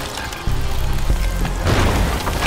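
Pirate-ship cannon fire in Sea of Thieves, a loud deep boom bursting in close after a brief quiet, followed by rumbling debris and splashing that swells again a second later.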